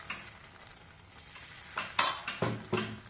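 Semolina batter poured into a hot ghee-wiped pan for sujir ruti, quiet background hiss giving way to a few sharp bursts of sizzling and utensil clatter near the end, close by.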